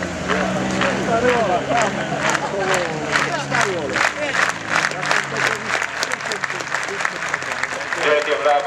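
Audience applause at a Polish event honouring Sławek and Maksym, crisp claps running under loud voices and crowd shouting for the full stretch.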